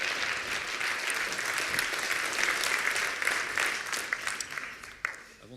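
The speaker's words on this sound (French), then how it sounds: "Je vous demande de l'applaudir, Jonathan Bory" An audience at an entrepreneurship and innovation hub launch claps for speaker Jonathan Bory, a full, sustained round of applause that tapers off near the end.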